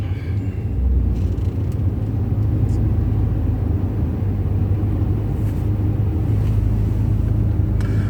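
Steady rumble of car traffic approaching the two-way Cross Harbour Tunnel in Hong Kong, a continuous loud engine and road drone heard from inside a vehicle, with a few faint passing swishes.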